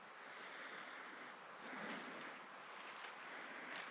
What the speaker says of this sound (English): Bad thing is that freaking wind.